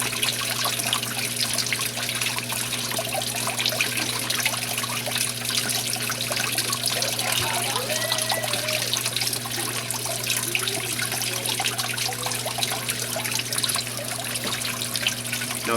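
Water runs steadily through a fine gold recovery bowl fed by a recirculating pump, a continuous close trickling and splashing wash over a low, constant pump hum, with no pauses.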